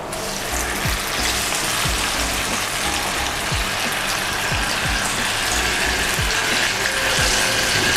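Sliced chili, tomato and shallot sauté in leftover frying oil, giving a loud, steady, dense sizzle and crackle that holds throughout with no break.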